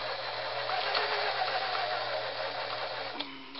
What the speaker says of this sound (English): You can see the needle swinging, so I've got it set for a zigzag stitch right now.